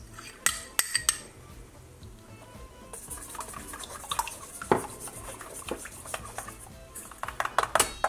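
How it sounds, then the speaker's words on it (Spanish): Melted wax with vanilla, cinnamon and nutmeg being stirred in a double boiler for a candle: steady close scraping and clinking of a utensil against the metal pot, with sharper knocks toward the end. "tengo que revolver muy bien para mezclar los ingredientes"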